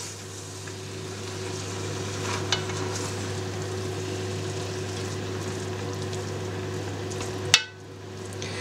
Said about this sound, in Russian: Перемешиваем ее с мяском. Мяско уже утушилось.